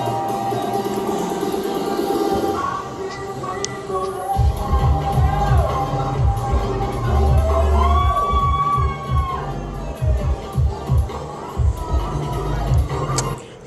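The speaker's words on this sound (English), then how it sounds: "so it was really cool to get this crowd reaction." A crowd at a New Year's Eve show reacts loudly to a song, cheers and shouts swelling over pounding music, with bright wavering tones rising above the noise midway and the roar continuing to the end.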